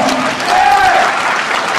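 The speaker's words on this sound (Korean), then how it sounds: "힘찬 박수로 한번 부탁드리겠습니다" Audience applause at a boxing match, a steady broadband wash of clapping filling the whole moment with a faint tonal line briefly on top.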